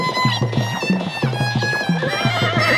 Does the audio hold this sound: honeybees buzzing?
no